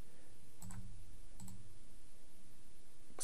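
A computer mouse clicks twice at a desk, a short sharp click near the start and another about a second later, fairly faint against a quiet room.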